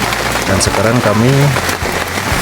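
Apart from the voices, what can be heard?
rain falling at mountain camp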